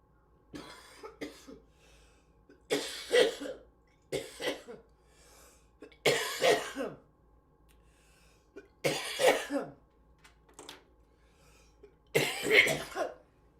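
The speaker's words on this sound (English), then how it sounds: "I'm trying to get over this cough for a little bit." Six bursts of harsh coughing, each a cluster of several coughs, spaced a couple of seconds apart, close and fairly loud with quiet gaps between.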